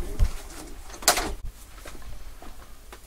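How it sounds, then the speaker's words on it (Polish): Pigeons being packed into baskets coo softly, with a sharp wooden or wicker bump and rustle in the middle, close by in a quiet indoor space. "Także w tej chwili gołębie są pakowane."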